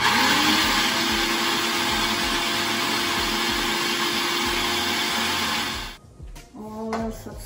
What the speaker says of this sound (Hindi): इसमें ये प्याज डाल के हम ब्लेंड करेंगे